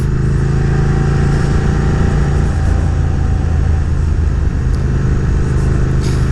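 A Triumph Speed Twin motorcycle running a DNK Tuneworks tune in sport mode with traction control off rides along, its twin engine giving a loud, steady, close drone with strong low rumble and little change in pitch.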